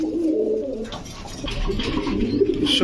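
Pigeons coo steadily at a pigeon market selling racer, Budapest, Lahori, King, Danish and Beauty breeds, a continuous close murmur of low throaty calls lasting throughout.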